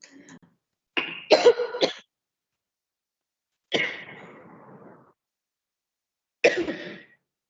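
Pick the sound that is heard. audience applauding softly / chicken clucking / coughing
coughing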